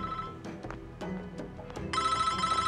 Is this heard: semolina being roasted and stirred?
no